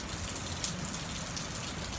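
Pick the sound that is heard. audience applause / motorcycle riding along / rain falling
rain falling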